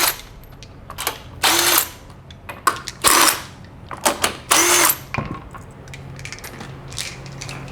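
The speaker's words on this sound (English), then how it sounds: "I'm just going to spin them off with this impact." A handheld impact wrench spins lug nuts off the rear wheel of a Nissan Frontier, Xterra or Suzuki Equator, in several loud, close bursts of a second or so separated by short pauses.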